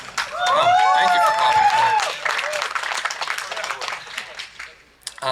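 An audience at a live comedy set claps and cheers, a dense wave of applause with whoops rising at the start, then thinning and fading out over several seconds.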